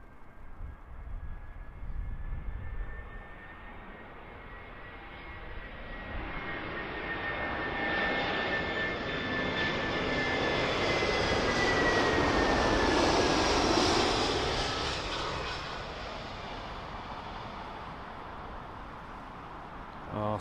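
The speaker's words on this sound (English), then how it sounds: "there is United Airlines 787-9 Dreamliner in from Denver" A United Airlines Boeing 787-9 Dreamliner arrives at London Heathrow from Denver, its jet roar building from a distant whine to a loud pass overhead around the middle, then fading as it moves away.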